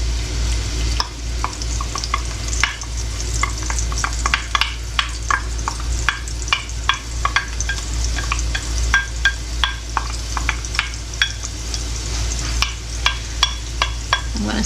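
Minced onions sauté in a hot pan for a marinara sauce, giving a steady close sizzle broken by frequent scraping stirs of a utensil against the pan, with no voices.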